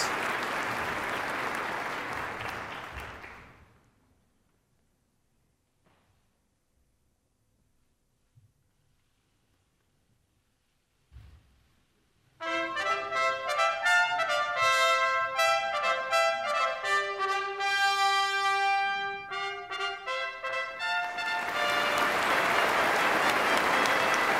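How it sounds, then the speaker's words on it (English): At the 2013 Nobel Prize ceremony in Stockholm Concert Hall, a large audience gives loud sustained applause that fades to near silence. Orchestral music then plays, and heavy applause swells again at the end. "Big applause for Peter Higgs here in the Stockholm Concert Hall at this year's Nobel Prize ceremony."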